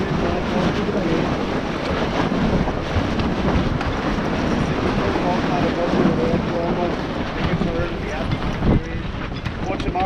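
A racing sailboat charges through an easterly breeze during a regatta on the Narrows, with steady roaring wind noise on the microphone and rushing water throughout.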